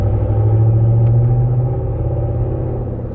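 A Cadillac Escalade fitted with a Corsa sport exhaust pulls in third gear, giving a loud, deep droning rumble that holds steady and then eases slightly, heard close up from inside the vehicle with no talking.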